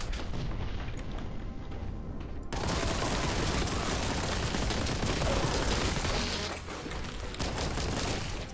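Loud, dense bursts of rocket launcher fire and explosions in Warhammer 40,000: Boltgun roar continuously, with booming blasts layered over a chaotic battle din.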